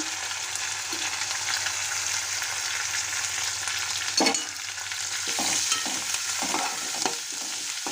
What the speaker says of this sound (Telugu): ఎండుమిర్చి కొంచెం వేగాలండి అదేవిధంగా కరివేపాకు కూడా ఆనియన్ కూడా వేసాను